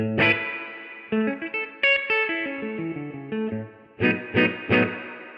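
Electric guitar run through a Purple Plexi overdrive pedal with a subtle slapback echo ahead of it, giving a loud, distorted riff of picked notes and chords that ends in three hard-hit stabs, with no talking.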